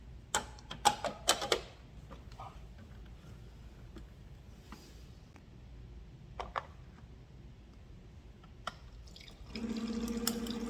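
A kitchen countertop water dispenser clicks a few times, then quietly runs water into a container in a steady stream near the end.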